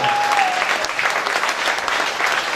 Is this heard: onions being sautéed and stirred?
no